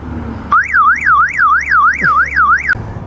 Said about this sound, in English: I can just hit the car siren app